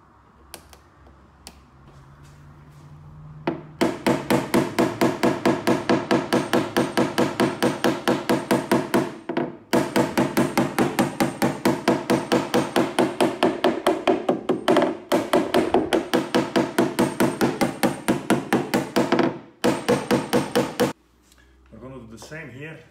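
Slide hammer pulling a dent in paintless dent repair, a rapid loud run of metallic knocks repeating steadily for long stretches with brief pauses between bursts.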